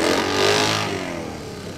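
Motorcycles passing in the Frost Fest parade, a loud engine roar that swells and then fades as the bikes go by, close and with no voices.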